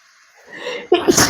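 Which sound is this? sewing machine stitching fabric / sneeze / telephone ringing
sneeze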